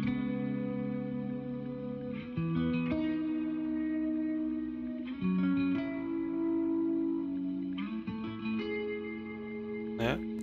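A doubled electric guitar, recorded clean with the drive off and shaped only by compression and reverb, rings out in sustained chords that shift every couple of seconds, full and continuous, with no talking.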